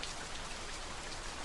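Rain heard from indoors, a dense, even patter of drops on a surface that stays soft and steady throughout, with no voices.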